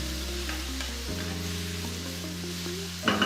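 Chopped tomatoes cook down in a pan for pasta, giving a steady, moderate sizzle over a sustained low tonal hum, with a brief louder clatter near the end.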